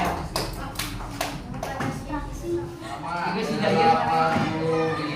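Students in a primary classroom clap together in a short burst of sharp, ringing hand claps, followed by voices talking over a busy room.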